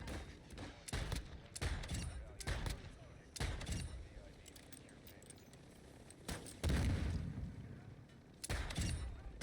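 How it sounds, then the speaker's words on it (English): Gunfire while shooting bots in the video game Warzone 2 comes as fairly quiet, sharp bursts of rapid shots separated by short gaps, over a low, busy game background. "So they will land, you can shoot them, and easily get that weapon XP stacking up."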